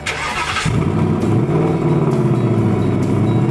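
A 2020 Ford Mustang GT's 5.0-liter V8 engine cranks and starts, then settles into a deep, steady rumbling idle, close and loud.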